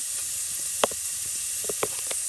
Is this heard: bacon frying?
yes